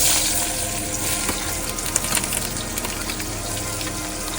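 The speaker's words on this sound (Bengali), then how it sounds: "এবার প্রথমে দিয়ে দেবো পেঁয়াজ" Onions frying in a pan of oil aboard a boat on the Bidyadhari river, a steady close hiss of sizzling with light stirring, and no talk over it.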